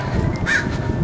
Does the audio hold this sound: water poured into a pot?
no